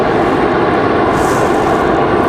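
An Endeavor CRJ regional jet on arrival at Raleigh-Durham, its engines producing a loud, steady broadband roar that holds evenly throughout, with no voices.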